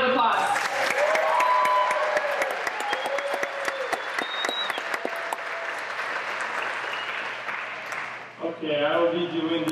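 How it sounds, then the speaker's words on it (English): A family camp audience claps loudly and steadily for most of the stretch, the clapping thinning out near the end, with a few voices and whoops mixed in before a voice speaks over it. "Let's give them a round of applause."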